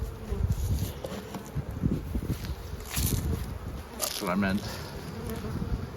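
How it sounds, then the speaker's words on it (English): Bees buzzing steadily in beehives packed full of bees during a strong sugar flow, a dense continuous drone close by, with a brief voice speaking over it. "some of the hives are pretty full of bees"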